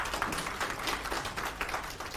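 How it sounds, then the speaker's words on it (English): An audience at a pension scheme annual general meeting in a Nairobi conference hall applauds for the Head of Public Service, a dense, continuous clatter of many hands with small swells. "give a round of applause to Head of Public Service"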